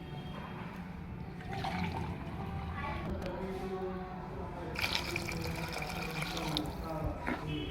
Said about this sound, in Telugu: ఇప్పుడు నెక్స్ట్ వాటర్ అనేది యాడ్ చేస్తున్నాను